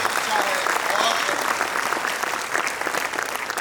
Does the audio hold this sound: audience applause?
yes